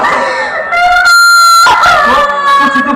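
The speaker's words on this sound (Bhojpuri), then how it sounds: "कुकुर" A dog howls loudly and close by, a drawn-out wavering wail that rises and bends in pitch, with a short rougher yelp in the middle.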